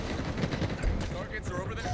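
Rapid gunfire in Halo Infinite multiplayer: dense, continuous bursts of shots and impacts packed close together, loud and busy, with game voice chatter mixed in.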